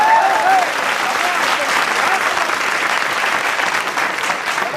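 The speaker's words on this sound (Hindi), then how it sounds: "हाथ खोल लो सर, आप तालियां बजाए।" Thick, sustained audience applause, loud and close from the start and holding steady to the end, with a voice briefly heard over it at the beginning.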